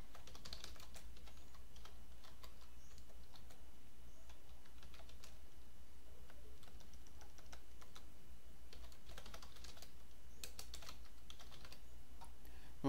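Quiet typing on a computer keyboard while writing code: a continuous patter of soft, irregular key clicks over a low steady hum, with small bursts of faster keystrokes and no talking.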